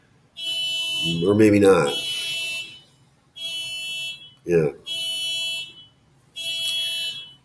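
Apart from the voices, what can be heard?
car alarm going off outside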